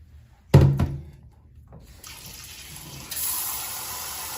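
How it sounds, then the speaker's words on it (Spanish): Cold tap water runs over a papaya being rinsed, starting after a loud knock and handling sounds, then flowing steadily and growing stronger partway through as the stream hits the fruit and sink. "Ahora vamos a enjuagar con agua fría por 3 veces esta papaya."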